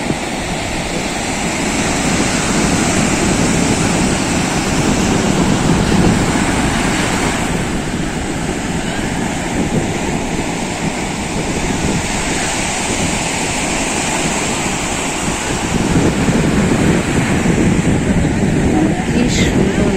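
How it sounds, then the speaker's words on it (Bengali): Sea waves pour through gaps between rocks and hills on the Kovalam coast, a loud continuous wash and roar of surf with wind buffeting the microphone throughout. "যেখানেই ফাঁক পেয়েছে সেখান দিয়ে এই যে সমুদ্র বয়ে পড়ছে"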